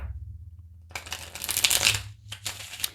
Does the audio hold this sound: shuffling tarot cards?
yes